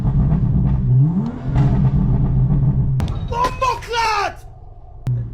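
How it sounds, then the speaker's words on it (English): A 2016 BMW 435i with a catless downpipe and tune revs up outdoors, a loud rising engine roar under excited talk, followed by sharp pops and crackles and a final short blip. "I'm about to rev this for y'all so y'all can hear it."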